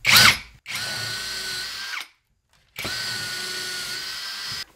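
A power drill bores the first hole into a wall stud, whining loudly in two steady runs of about a second and a half each, separated by a brief pause, close by.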